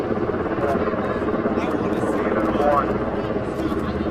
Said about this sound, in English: that helicopter's way too loud